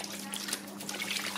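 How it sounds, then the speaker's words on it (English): Cleaning solution, about a capful and a half, is poured into a sink or bowl of water and swished around, giving a soft, steady liquid trickle and slosh up close, heard alone without talk. "I just pour a good glug, it's probably about a capful and a half into here, and I'll just give it a swish round"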